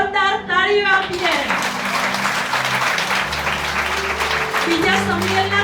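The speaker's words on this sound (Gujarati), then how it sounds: "જોરદાર તાળીઓ આપીએ" Enthusiastic church congregation applause, a loud, dense wash of clapping that follows a sung or chanted phrase and carries on over lingering music and a voice.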